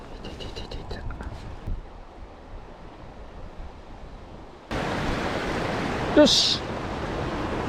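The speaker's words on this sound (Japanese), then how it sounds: "うん、いい川だな。" Steady broadband rush of a flowing river, faint at first and then much louder and closer, with a man's brief spoken word and a short high bird-like chirp over the water noise.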